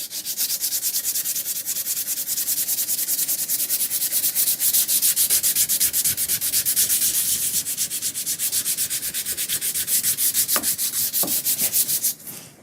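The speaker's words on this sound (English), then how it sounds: "I'm going to finish leveling it with some 220 grit paper and a sanding block." 220-grit sandpaper on a sanding block rubs back and forth rapidly over pore-filled wood, a close, loud, even scratchy hiss that stops abruptly near the end.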